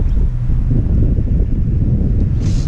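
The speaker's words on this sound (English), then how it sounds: "of course it's windy today" Heavy outdoor wind buffeting a microphone, a loud continuous low rumble with rough gusting texture throughout and no speech.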